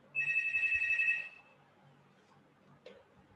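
A telephone bell rings loudly in one steady burst of about a second, close by in a lecture room, then stops, followed by a faint click.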